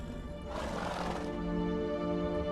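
A horse neighs in the video game The Witcher 3, one clear whinny rising about half a second in and fading after roughly a second, close and loud over a steady game ambience.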